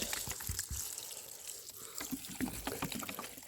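Water splashes and trickles steadily onto lush lettuce plants growing over black felt in a hot garden, a continuous soft pouring with small dripping spatters.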